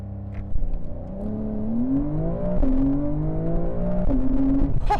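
A Porsche Carrera S engine revs hard under launch-control acceleration, its rising harmonic pitch climbing in steps as it shifts through gears, loud and close with no talk.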